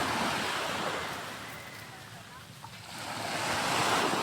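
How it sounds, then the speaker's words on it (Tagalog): Calm, gentle sea waves wash onto a shore in a steady, continuous surf wash that swells at the start and end, with some wind noise on the microphone and no talking. "Ayan ang dagat"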